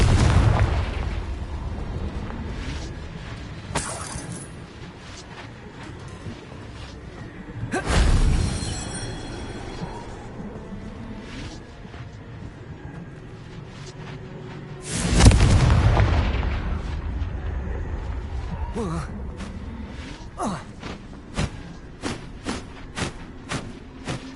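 Explosive blasts from the Confringo fire spell in the Hogwarts Legacy video game: several loud booming bursts at intervals over game ambience, followed by a string of short sharp pops near the end.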